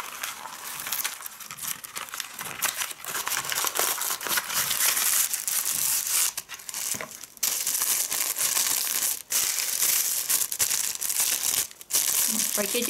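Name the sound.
crinkling plastic packaging of ordered item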